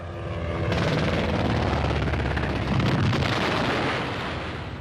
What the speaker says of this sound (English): A second airstrike is called in.